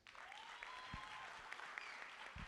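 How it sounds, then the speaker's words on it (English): Light applause from an audience at a school poster competition ceremony, faint and distant in a large room, with a few sharper claps standing out. "Can we give Ntate Laki a round of applause?"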